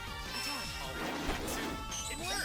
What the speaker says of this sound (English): When I land this blow, there'll be a very distinct noise.